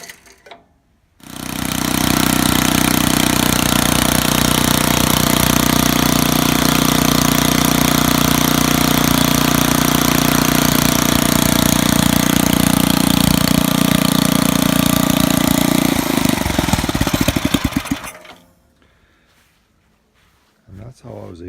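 A Briggs and Stratton rototiller engine, freed after being seized, starts and runs at a loud, steady roar for about sixteen seconds before cutting off and winding down into quiet.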